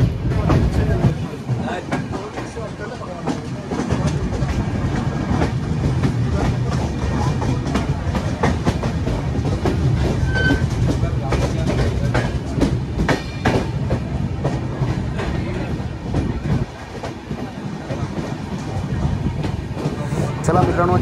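A Konkan Railway train rolls through Chiplun railway station in rainy weather, heard from on board as a loud, continuous rumble with rhythmic clickety-clack of wheels over rail joints.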